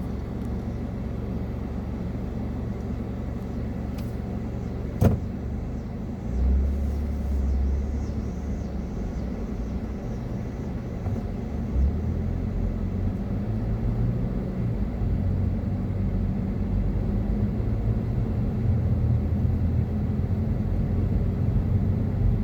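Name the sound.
traffic at a busy intersection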